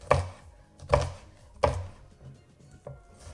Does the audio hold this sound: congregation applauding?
no